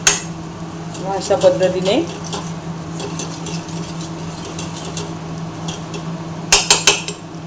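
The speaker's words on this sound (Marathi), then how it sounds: "तर आता हा मसाला जो आहे ना तो मी चांगला असा परतून घेत आहे तेल सुटेपर्यंत" Spice masala sautés in oil in a pan for a Kokanastha-style garam masala amti, with a spatula scraping and clinking against the pan at intervals over a low sizzle, brief talk, and a burst of clatter near the end.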